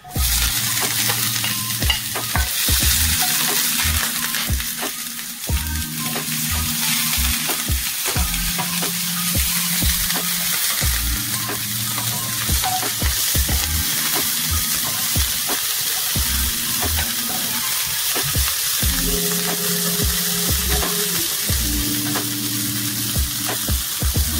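Onions and peppers fry together in a pan for chicken wraps, a steady loud sizzle running throughout with repeated scraping stirs of a utensil against the pan.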